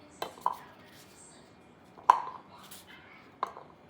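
Knife slicing a cucumber on a board: a few sharp, separate cuts with quiet pauses between them, close and fairly soft, no voices over them.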